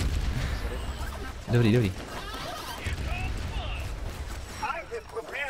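Bursts of gunfire and impacts from the video game Battleborn crackle over a busy game soundscape while players talk throughout.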